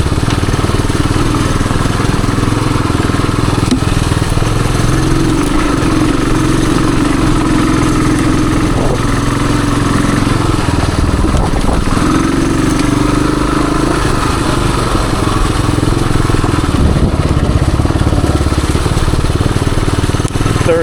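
A 1978 Suzuki DR370 trail bike idles and crawls slowly up a wooded incline, its low, steady engine rumble continuous and close throughout.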